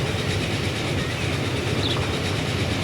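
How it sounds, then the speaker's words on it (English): Freight train rumbling through a tunnel in the rail-building game Transport Fever 2, a steady loud roar with faint rhythmic wheel clatter running throughout, no talk. "You can see the freight train just popped into a tunnel and out the other side"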